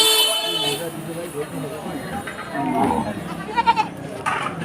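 Goats bleat at a busy livestock market amid a crowd of people talking and haggling, with several short, wavering calls rising over the steady chatter and an occasional horn.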